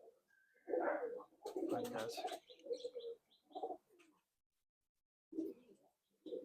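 Andra and Madrasi pigeons coo in short, throaty bursts close by, with a few faint chirps between them and a long pause of quiet before the cooing resumes.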